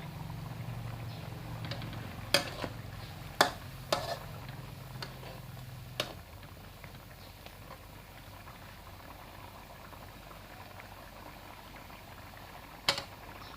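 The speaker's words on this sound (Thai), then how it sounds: "ตอนนี้เดือดพอสมควรนะครับ" Panang chicken curry bubbles in a pot at a low, steady simmer, with a few sharp clinks and taps of utensils scattered over the soft boiling hiss.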